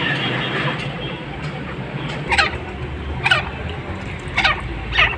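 A caged partridge gives four loud, rasping calls at roughly one-second intervals, each short and close. They sound over steady background noise while it is fed.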